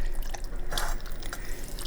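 Melted butter is poured into a pan while cooking a keto holiday meal, a brief, close liquid trickle with light dripping splashes.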